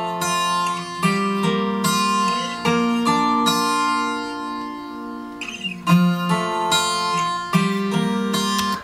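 A 12-string guitar plays an arpeggiated pattern, with bright, ringing picked notes rising in a repeating cycle that is clear and close, alone without any voices.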